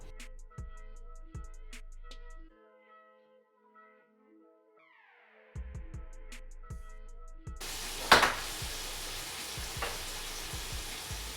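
Banana fritters frying in hot oil in a pan, starting with quiet background sounds and then a loud, steady sizzle with crackles and spatters that runs on to the end.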